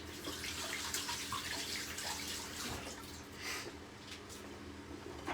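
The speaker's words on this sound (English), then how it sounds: "I'm going to give this pepper a little wash" A pepper is washed under a running kitchen tap, with water splashing steadily and close by and gurgling as hands turn it in the stream.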